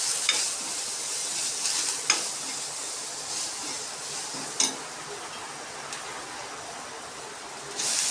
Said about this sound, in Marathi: नंतर आपण वांग्याच्या फोडी टाकून घेऊया.